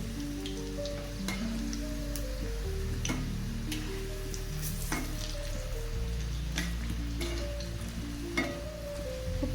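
Onion bhaji frying in oil, heard as a steady dense sizzle with scattered crackles and pops and a low rumbling bed underneath, continuous throughout.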